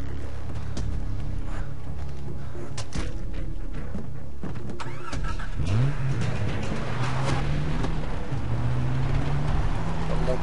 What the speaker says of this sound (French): Allez, on va prendre le véhicule comme ça